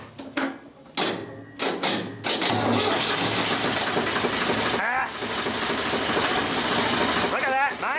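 An engine powered by boost capacitors cranks in several short, labored bursts, then catches and settles into a steady running drone. Voices call out over the engine.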